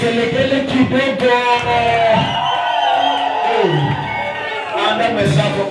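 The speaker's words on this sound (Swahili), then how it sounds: "Alafu kana vigelegele kidogo." A worship crowd at an intense night service lets out loud, sustained ululating whoops and cheers, continuous and close, layered over music and voices throughout.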